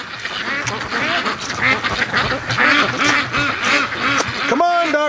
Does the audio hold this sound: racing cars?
no